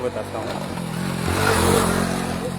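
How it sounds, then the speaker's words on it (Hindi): A motorcycle rides over a dangerous bridge, its engine droning and swelling as it approaches at close range, heard beneath someone talking and outdoor crowd noise. "देख लो ये बाइक चालक यहाँ चलाकर आ रहे हैं"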